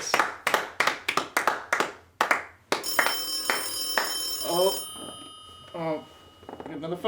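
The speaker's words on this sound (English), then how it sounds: "Oh, another phone call." A telephone bell rings in a quick series of sharp, bright rings, close and loud, then fades as a voice and music come in with a studio audience feel.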